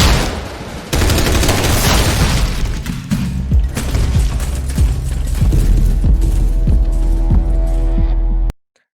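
Dense rapid gunfire and bullets pinging off armor in an action sequence, loud sustained bursts with sharp repeated impacts and booms, a droning tone underneath, ending abruptly.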